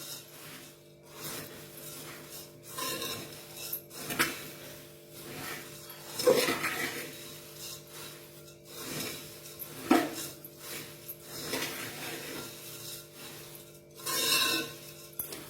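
Spicy puffed rice bhel with chillies is tossed and mixed in a bowl, giving dry rustling and scraping strokes with a few sharper scrapes at intervals, close and moderately quiet, with no talking.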